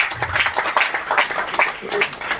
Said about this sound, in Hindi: मैं चाहूंगा उनके लिए एक बार जोरदार ताली हो जाए